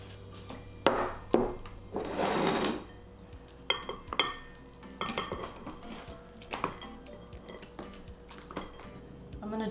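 Dishes and cutlery clatter while a meal is moved into a bowl in a home kitchen, with a burst of scraping followed by scattered sharp clinks and knocks at close range.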